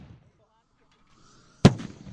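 A single loud carbide cannon blast booms sharply near the end, from a carbide shooting crew firing from an old stove on the Foarwei in De Westereen, after a quiet stretch with faint background murmur.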